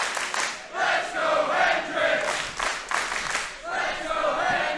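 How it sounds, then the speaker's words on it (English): Wrestling crowd at a Defiant Loaded event roars in support of Joe Hendry, a dense, loud swell of cheering and chanting that dips briefly and surges back, filling the arena throughout. "Crowd is starting to feel it here too. Support for Hendry getting louder and louder."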